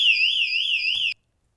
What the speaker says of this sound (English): I bring you the locker alarm.